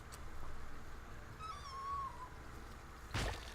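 A pet cat gives one faint, drawn-out meow partway through, set against a low steady background hum. A brief thump follows near the end.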